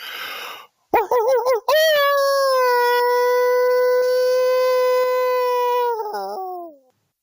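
A person imitates a dog's howl up close, starting with a few warbling yelps and then holding one long, loud, sustained howl that wavers and fades.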